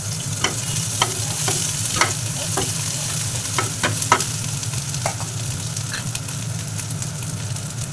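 Chopped green chillies sizzling in a pan with sautéed ginger and garlic: loud continuous frying hiss over a low hum, punctuated by a series of short scraping taps as the mixture is stirred.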